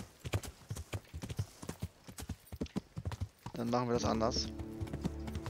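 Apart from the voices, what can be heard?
horse hooves while riding, Kingdom Come: Deliverance video game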